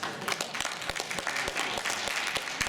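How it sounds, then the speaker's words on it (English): An audience at a panel discussion claps hands in agreement, producing fairly quiet, uneven, scattered claps over about three seconds. "If you agree, clap hands"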